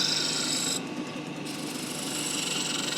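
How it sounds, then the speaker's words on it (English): Gouge taking planing cuts on a wood lathe, a steady close rasping hiss of spinning wood and shavings that eases for a moment partway through, then carries on evenly. "Just enjoy these planing cuts, enjoy creating those shavings."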